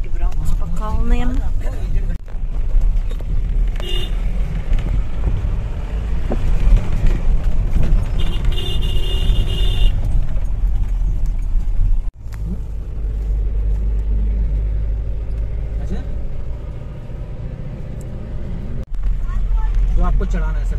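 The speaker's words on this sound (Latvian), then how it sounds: "Tik brauc pa kalniem." A vehicle drives along a mountain road near Rishikesh, its engine and tyres giving a steady, loud low rumble with some wind buffeting for the whole stretch, while people talk inside.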